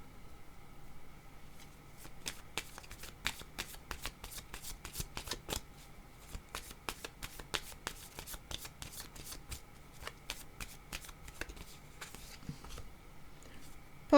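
Tarot cards are shuffled by hand close up, a quick run of crisp riffling snaps and soft shuffles that come in irregular bursts over a faint quiet room.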